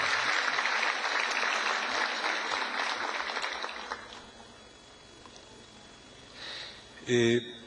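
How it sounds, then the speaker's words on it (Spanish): Sustained applause from a congress audience fills the first few seconds, then fades into quiet room noise, with a brief voice at the end. "Vamos a recibir al doctor Pedro Gómez con un fuerte aplauso"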